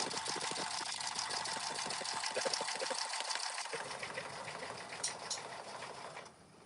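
Sewing machine stitching a hole closed on an appliqué and shaker project with clear vinyl, a steady rapid mechanical whirr of needle strokes running continuously and close, slowing and stopping near the end.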